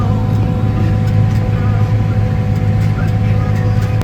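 Inside the cab of a farm tractor steering itself by GPS across a field: a loud, steady engine drone with a deep hum that holds unbroken throughout.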